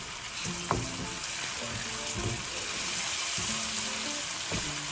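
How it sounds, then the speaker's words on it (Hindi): Ginger-garlic paste fries in a pan for dhaba-style mutton keema, a continuous sizzling hiss with a few soft clinks and stirring scrapes. "जैसे हमारा ये लहसुन अदरक का पेस्ट जो है वो तकरीबन 3 से 4 मिनट में भून जाएगा"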